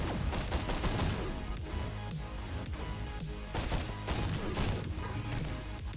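Rifle fire in the shooter GTTOD, firing in repeated three-shot bursts, a fairly quiet run of sharp cracks and clatter packed over several seconds with no speech.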